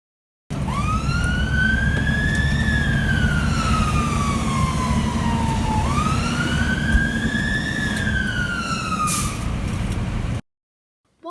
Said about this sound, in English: our blue lights and our sirens are our way of saying politely, beep beep, please move out of our way